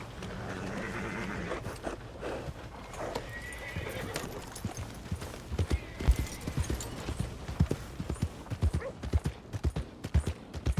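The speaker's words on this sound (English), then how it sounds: "That horse is really pissed off." A horse in Red Dead Redemption 2 whinnies loudly at first, then its hooves clip-clop in a quick, irregular rhythm close by, growing steadier toward the end, while faint voices talk underneath.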